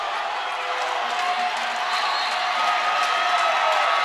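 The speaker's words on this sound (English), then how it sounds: "the Cardinal football team is generating some excitement in this crowd now" A college basketball crowd at a 2016 Cardinals vs Navarro game, with Cardinals fans on their feet, gives off a steady broad roar of cheering that swells slightly toward the end.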